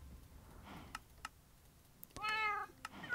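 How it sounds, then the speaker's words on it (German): A cat meows a few times in a video game amid quiet game ambience, with a couple of short clicks beforehand and a longer, louder meow near the end. "Ich höre eine Katze."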